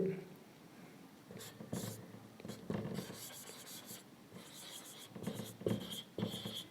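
A pen scratches across paper while a maths teacher writes out an arithmetic progression solution, with steady rubbing strokes in irregular bursts, close, and the teacher's voice faintly present in places.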